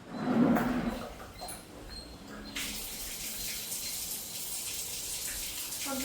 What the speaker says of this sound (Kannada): ಒಂದು ಸ್ವಲ್ಪ ಹೊತ್ತು ನೀರು ಬಿಟ್ಬಿಡ್ತೀನಿ.